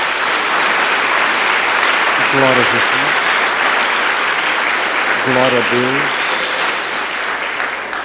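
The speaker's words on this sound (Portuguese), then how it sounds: "Dê uma salva de palmas ao Senhor." A church congregation claps continuously in a loud, dense wash of applause that fills the whole stretch, with a voice calling out twice over the clapping.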